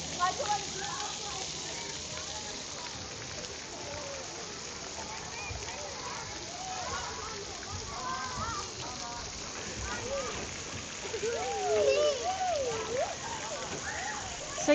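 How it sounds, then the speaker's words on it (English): Water splashes and sprays steadily at a children's splash park at a beach holiday resort, a constant patter and hiss with excited children's voices and shouts scattered through it, growing louder near the end. "that's the splash park"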